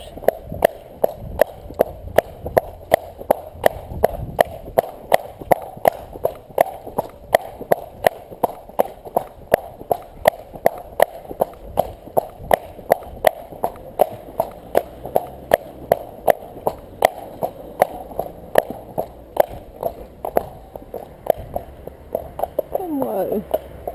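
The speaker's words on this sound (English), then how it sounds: "Come on, Della, let's have a little trot." Della the horse trots during a groundwork training session, her hooves clip-clopping in a close, steady, even rhythm of roughly two to three beats per second. A voice is faintly present at times.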